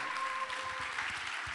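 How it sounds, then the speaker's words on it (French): Brief applause from an awards ceremony audience for the sponsors of the promotion, moderate clapping with a faint steady tone underneath. "les parrains de cette promotion numéro 11, que je vous demande d'applaudir bien fort"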